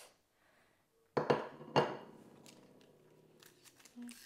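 A knife cuts through a baked blackcurrant flapjack, giving two sharp, close crunching cracks followed by softer crumbly scraping, with a quiet gap before and faint rustles after.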